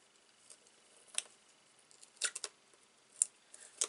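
Paper backing pieces are peeled away from small card shapes for a handmade arrow card, giving a few faint, scattered crackling rips and ticks against a quiet room, with no talking.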